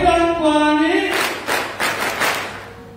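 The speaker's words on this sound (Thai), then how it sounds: "ปรบมือให้ด้วยครับยกชั้น ยกชั้น ปรบมือนะครับ ปรบให้ดังกว่านี" Audience clapping starts after a second of a sustained tone, with broad bursts of applause continuing steadily to the end.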